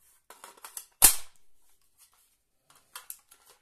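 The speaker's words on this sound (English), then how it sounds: "insert your mag, push pull, no worries" A pistol magazine is pushed into the gun's backup catch with one sharp metallic click, surrounded by quieter small rattles and handling clicks, close and without speech.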